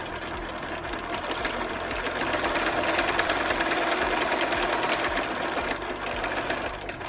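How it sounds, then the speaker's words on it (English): A sewing machine stitches a blanket for an Eagle Scout project, a steady close mechanical whir with fast rhythmic needle clatter that holds for several seconds. "you're going to drop it, and you're going to start sewing."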